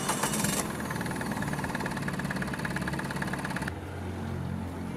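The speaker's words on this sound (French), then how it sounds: "Les vibrations trop présentes au ralenti du bicylindre Lombardini sont un mauvais souvenir" Lombardini two-cylinder engine idling in a Bellier B8 microcar, a steady, slightly vibrating and knocking low hum, close and continuous with no talking, its tone shifting near the end.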